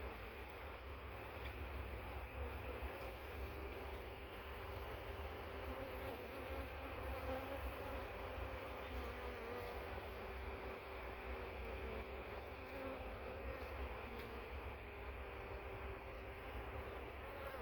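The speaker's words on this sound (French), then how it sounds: "il y a de plus en plus d'abeilles qui s'affairent à l'entrée" A soft, continuous drone of many honeybees buzzing together at a hive entrance, steady and fairly faint, with no talking.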